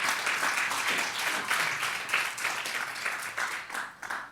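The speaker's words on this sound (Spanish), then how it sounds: "¿Cuánto le dan un aplauso al Rey?" Church congregation applauding during a sermon, a dense, continuous wash of many hands clapping, fairly loud and even throughout with slight swells and no speech over it.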